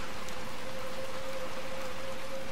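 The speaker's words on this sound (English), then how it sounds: "it's raining hard out there too." Heavy rain falls in Little Nightmares 2, a dense, steady hiss of downpour with no talk, accompanied by a faint sustained tonal hum.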